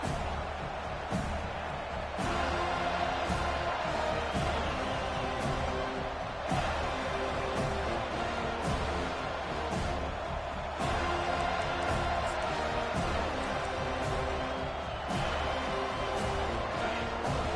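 Stadium crowd at a college football season opener, a dense continuous roar of cheering and noise filling the whole stretch, with swells and distant thuds mixed in.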